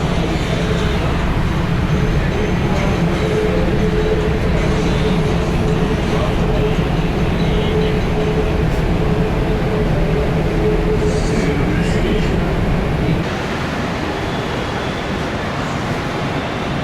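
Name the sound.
metro train riding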